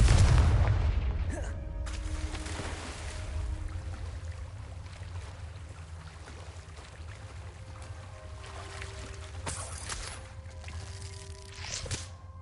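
A Confringo explosion spell in the Hogwarts Legacy video game, a loud deep boom at the start fading into a rumbling tail, with sharper impacts later over a steady game ambience.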